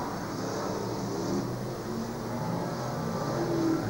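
V8 speedway cars built on old sprint car chassis thunder around an Adelaide track, a continuous distant roar that swells and fades slightly as they pass, heard alone without talk.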